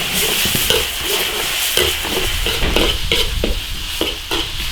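Whole star anise, cinnamon bark, Sichuan peppercorns and dried chilies stir-fried in an iron wok with a steady close sizzle, a spatula scraping and tossing in a regular rhythm of repeated strokes.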